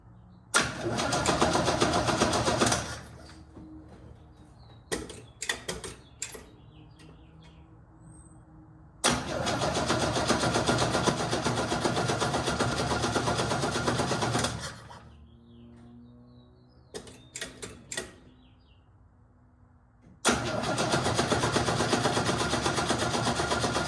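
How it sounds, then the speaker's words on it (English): A 1969 Chevrolet C10 engine cranks repeatedly without catching, with three long grinding bursts of starter whirring separated by quiet gaps and short clicks, recorded close from inside the cab. "I'll put you inside so you can check out the engine while I try to start it up."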